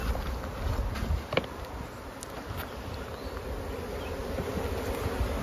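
Honey bees buzz in a dense, continuous drone around open hives in a bee yard, many insects close by and constant throughout, with occasional brief knocks and no talk.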